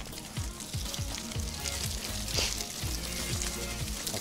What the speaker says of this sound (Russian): Слышите эти многообещающие, чвякающие звуки?